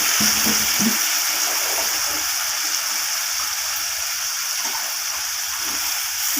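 Water is poured into a pan of cooking red amaranth stems, a steady rushing gush that stays close and even throughout, with a soft low bubbling underneath at the start.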